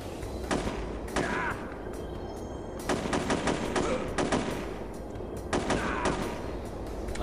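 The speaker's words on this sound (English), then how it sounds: "We're standing on basically what amounts to a pillar, with about 3 or 4 guys all shooting at us." Enemy gunfire in the video game Chaser, with three or four shooters firing at once: loud, close bursts of rapid shots in several clusters, separated by short gaps.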